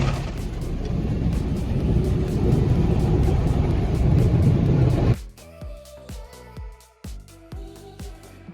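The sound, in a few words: car going through a car wash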